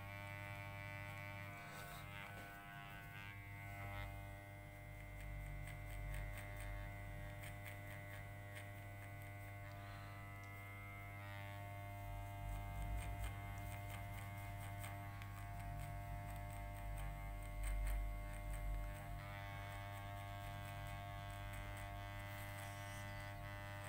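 Electric hair clippers cut a man's hair for a fade, making a steady, close, low electric buzz that hums on without a break while the blades work through the hair.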